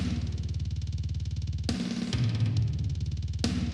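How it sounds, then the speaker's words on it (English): Heavily distorted drums filtered with high and low pass filters pound in a steady fast pattern, with crashing hits cutting through at intervals, in an extreme metal mix. "The drums, I'm sending them off to a drum distortion."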